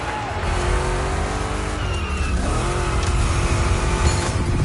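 Two Chevy big-block cars race in The Crew Motorfest, engines roaring loud and continuous with tires squealing and skidding through rough turns, a constant dense wall of motor noise throughout.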